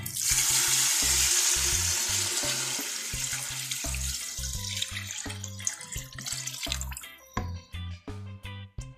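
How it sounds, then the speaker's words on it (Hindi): A loud rush of water pours into a pot over hot oil, the hiss fading as the pour ends and bubbling pops take over. "अब मैं इसमें पानी डाल दूंगी"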